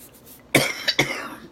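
A single sharp cough, close and loud, followed by a smaller second cough a moment later, with quiet background before it.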